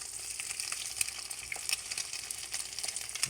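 An egg frying over medium in a pan with bacon: a steady, fairly quiet sizzle full of tiny crackling pops, close and continuous, with no talking.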